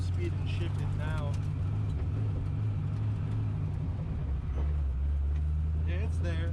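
A drift car damaged at DriftWeek, low on clutch fluid, has its engine drone steadily while it gathers speed, with a brief dip in pitch as it shifts gear. A voice talks faintly over it.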